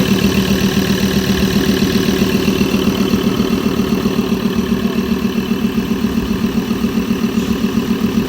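A steady 3.2 diesel engine in a Ford Everest idles close by, its low rhythmic clatter even and unbroken throughout, with no revving.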